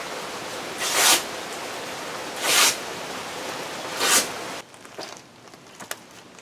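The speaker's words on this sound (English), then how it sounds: "I am taking just some of my mail that I don't need but has my information on it, and I'm just shredding it" A paper shredder chews through pieces of mail in three evenly spaced, rough grinding bursts over a constant motor hiss, which then cuts off, leaving faint rustling and clicks.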